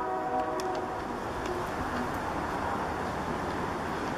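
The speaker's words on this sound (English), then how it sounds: "We live by the train tracks and it's very loud." Train passing on nearby tracks beside a home, a steady loud broadband rumble and rattle of rail cars filling the whole stretch, with faint high squeals above.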